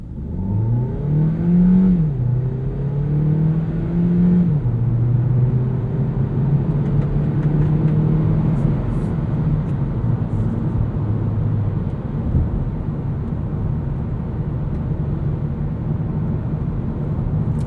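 A 2020 Hyundai Ioniq Hybrid Limited in sport mode accelerates hard from 0 to 60, its engine droning steadily from inside the cabin with rising pitch steps at gear shifts, over constant road and wind rumble.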